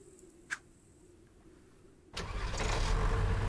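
A boat engine in the fishing video game BassMaster Fishing 2022 cranks and catches after a quiet stretch with a single brief click, then settles into a loud, steady, close rumble with no talking.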